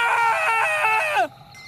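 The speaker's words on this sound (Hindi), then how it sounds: "जंगल से जोर से एक चीख निकली।" A loud, sustained scream rings out from a forest in a horror story, a shrill pulsing wail lasting over a second before cutting off sharply into quiet.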